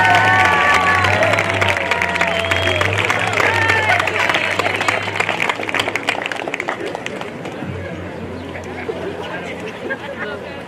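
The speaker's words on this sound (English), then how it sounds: "So please give a round of applause for Cameron Gage" An audience at a high school semester awards ceremony breaks into loud, sustained applause with cheering and crowd chatter, and the clapping thins out gradually toward the end.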